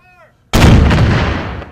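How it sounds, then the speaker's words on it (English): A single powerful cannon blast at Fort Jackson on the Savannah River bursts suddenly after a brief quiet moment, then its boom rolls and decays loudly. "The firing of the cannons at Fort Jackson marked the first dive into the water."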